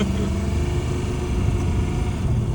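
A mystery auction racecar fitted with a new engine, its throttle limited by a tight cable, roars continuously and loudly at steady high revs with a rough, throbbing low rumble, close by and with no voices.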